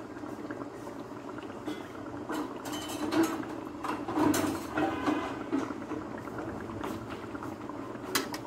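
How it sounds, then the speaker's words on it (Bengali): Spice paste fries in hot oil for a raw mango pickle, a soft continuous bubbling sizzle with scattered pops and crackles, fairly quiet and close, without talk. "এখন এই মশলাটাকে ভালো করে তেলের ভিতরে ভেজে নিতে হবে"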